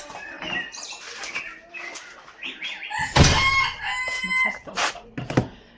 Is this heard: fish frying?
no